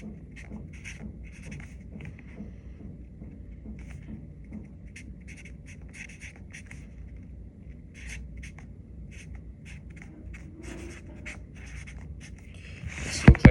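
Chalk or marker scratches across a board as a formula is written during a lecture, giving short rhythmic strokes and taps in quiet room tone, followed by a couple of sharp knocks at the end.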